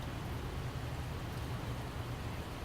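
Rain falls in a continuous, even hiss of soft patter, moderately quiet and unbroken, with no voices over it.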